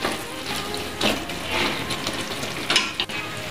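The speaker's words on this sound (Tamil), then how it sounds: "இப்போ நாம் இந்த சோறை இதுக்குள்ள மிக்ஸ் பண்ணி விடுவோம்" Rice being stirred into chicken kabsa biryani in a pot, a soft, steady scraping and stirring with faint sizzling, close and moderately quiet, no talking.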